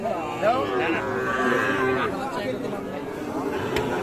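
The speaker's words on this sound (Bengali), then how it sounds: "এটা সম্ভবত ইন্ডিয়ান সাইওয়াল" Sahiwal bulls at the Ambari livestock market low and moo close by, the calls mixing with steady crowd chatter and talking throughout.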